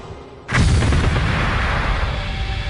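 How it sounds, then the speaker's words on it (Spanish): A sudden loud blast bursts out during an embassy hostage rescue raid, a sharp boom followed by a sustained rumbling roar and crackle that stays heavy and close. "una terrible explosión sorprende a todos"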